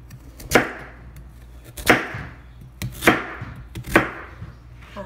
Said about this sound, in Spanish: los vamos a partir por la mitad a lo largo